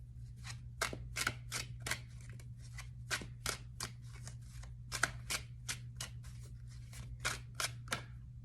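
Tarot cards being shuffled by hand, a steady run of crisp riffling slaps and flicks, close and quiet over a low background hum.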